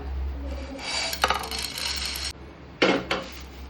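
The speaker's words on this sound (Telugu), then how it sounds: "ఇవన్నీ తీసి ఒక ప్లేట్లోకి తీసేసుకుంటున్నాను" Dry-roasted spices are scraped out of a pan onto a plate, making metallic rasping scrapes and a couple of sharp clinks of utensil on cookware. The scrapes come in two bursts over a low steady hum, with no talking.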